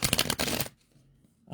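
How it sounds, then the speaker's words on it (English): A deck of cards being shuffled close up, a quick burst of rapid riffling flutters lasting under a second, then near silence, with a person starting to speak at the end. "One more shuffle."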